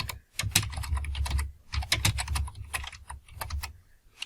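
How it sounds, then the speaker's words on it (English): Fast bursts of close keystrokes on a computer keyboard clatter in quick clusters with brief gaps, as a full name and details are typed in. "So I'm going to type in his full name."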